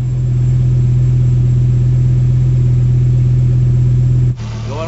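A Ford Focus ST engine idles just after restarting, a steady, loud low hum with an even tone that holds close by, then drops slightly near the end.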